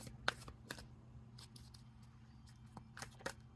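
Tarot cards shuffled and drawn from the deck: soft, quiet riffling and a few crisp papery flicks and slaps over a low steady background hum, close and gentle, no talking.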